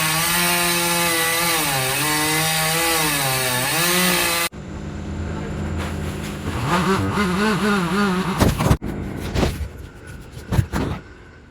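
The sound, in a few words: chainsaws running outside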